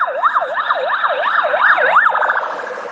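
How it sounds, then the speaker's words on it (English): Ambulance siren wailing in a rapid rising-and-falling sweep, loud and close, then shifting and fading slightly as the vehicle passes. "That's the ambulance."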